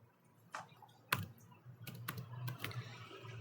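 Someone types a command on a computer keyboard. A handful of quiet, separate key clicks fall at an irregular pace over a faint room hum.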